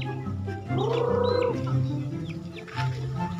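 Domestic chickens clucking close by in a rural yard in Masbate, with one rising drawn-out call over a steady chatter of the flock.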